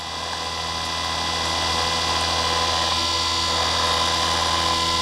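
A Harbor Freight chain saw sharpener grinds the teeth of a saw chain, giving a steady high-pitched whine with a constant mechanical drone beneath, continuous and close throughout.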